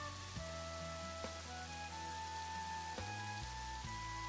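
Soft rain ambience in a video game, a steady patter of rain under a layered synth music track with shifting sustained tones.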